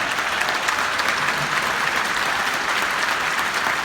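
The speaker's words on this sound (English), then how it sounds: "That's worthy of a round of applause." Steady, dense applause from an audience, loud and continuous throughout without a break, no voices standing out above the clapping.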